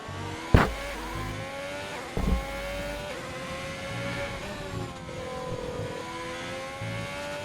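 Alfa Romeo Formula 1 car engine in the racing game F1 2020, heard from onboard at the Mexico circuit as a continuous high whine that shifts pitch through gear changes, with a couple of sharp thumps early on.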